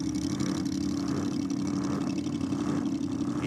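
A 412 cubic inch Ford-powered drag car engine roars at steady high revs during a burnout, a loud continuous dense rumble with no pauses and no voices.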